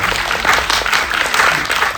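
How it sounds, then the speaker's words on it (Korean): An audience at a film screening talk applauds loudly and densely throughout a brief burst, a close, continuous wash of many hands clapping. "박수 한번 부탁드리겠습니다."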